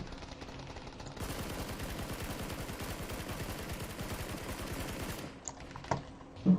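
Rapid sustained automatic fire from an M4 assault rifle fitted with attachments in PUBG, a dense unbroken burst lasting about four seconds, loud and close, followed by a few faint clicks and handling sounds.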